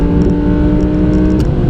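A 2018 Audi R8 V10 Plus on a race track, its engine holding a loud, steady, close drone with a strong low hum that stays even throughout.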